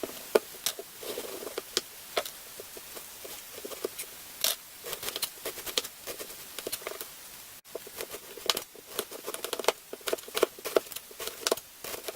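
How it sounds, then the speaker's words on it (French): Cabbage being sliced on a board with a knife, giving a steady run of short, crisp chopping taps at close range that come in uneven bursts, with no talk. "je vais couper mon reste de chou"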